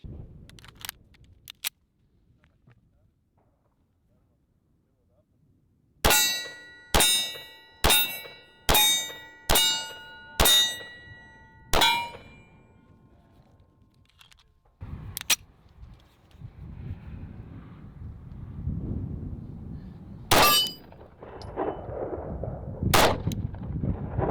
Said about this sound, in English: shooting this suppressed is more just for fun and something to plink around with on the range